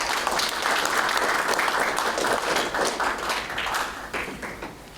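Sustained audience applause welcoming an emeritus professor to the podium at a Korean academic conference, dense steady clapping across the whole stretch that thins slightly toward the end.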